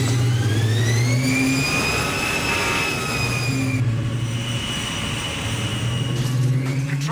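A jet engine roars in the James Bond 007: Everything or Nothing video game, a loud sustained whine that sweeps upward and then holds, heavy engine rumble underneath the whole time, with no voices.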